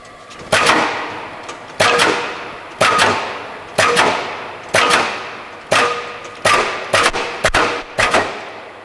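A Bliss C-35 35-ton OBI punch press cycles repeatedly in inch mode, giving about eight loud, evenly spaced mechanical thumps, each a sharp hit followed by a short decaying clatter.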